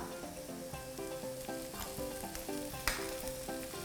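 Pork rinds sizzle and crackle as they are stir-fried in a pan, with a steady frying hiss, rhythmic scraping strokes and a sharp clack near the end, with music playing softly underneath.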